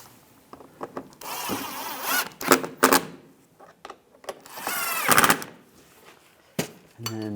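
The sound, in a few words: tightening screws on Buick Enclave front bumper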